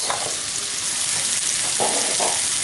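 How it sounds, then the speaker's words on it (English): Sliced courgette sizzles and fries steadily in a hot pan, with a continuous crackle and a few brief stirring scrapes, up close and without talk. "So now I'm adding in the courgette"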